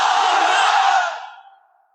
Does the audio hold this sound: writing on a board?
no